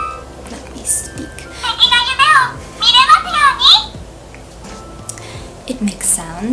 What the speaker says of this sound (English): It makes sounds, it plays music.